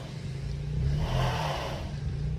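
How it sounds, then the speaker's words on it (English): A car revs its engine while trying to get out of the snow during a New York City snowstorm, giving a steady, fairly close mid-pitched engine drone that rises a little toward the middle and then holds. "Every car trying to get out the snow."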